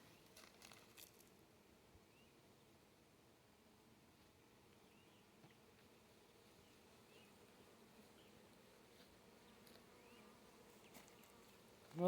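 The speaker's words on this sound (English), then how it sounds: "Another bunch of bees" A large honey bee swarm hums in a faint, steady drone that holds for the whole stretch, distant and low, with a brief louder rustle at the very end.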